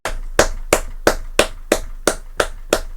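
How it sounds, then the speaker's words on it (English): Hands clap close to a microphone, nine sharp claps at a steady, even pace, each crisp and loud with a short decay. "clapping's there"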